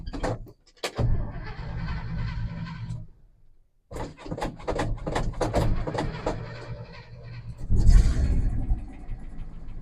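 An old truck that sat in a barn for seven years, running rough with a suspected carburetor accelerator pump fault, its engine revving in loud bursts with a brief drop to near silence, clattering and thumps mixed in.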